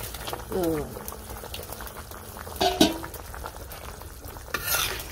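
Hilsa fish curry bubbling at a steady boil in a pot over a village kitchen fire, with a soft continuous simmer, a brief clatter of stirring midway, and a person talking over it.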